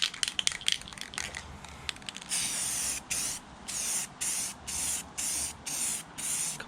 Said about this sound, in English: I'm just going to spray the clear coat now over the top.